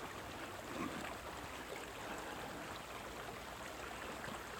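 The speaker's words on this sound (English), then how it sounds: "Another small creek crossing over here." A small creek crosses a hiking trail at the Ashbridge Preserve in Chester County, Pennsylvania, its water rushing in a steady, faint broadband wash with no voices.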